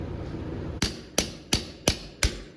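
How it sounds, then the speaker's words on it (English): Five sharp hammer blows land at an even pace on a 1958 Plymouth front clip, each a bright metallic strike that quickly decays, following a stretch of low background noise. "Find a hammer."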